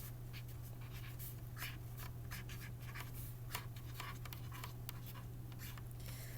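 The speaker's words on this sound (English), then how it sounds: "And then I'm going to write, pizza is the best because it is" Pencil scratching across paper in short, quick strokes, quiet and close, with a constant low hum beneath and no voices.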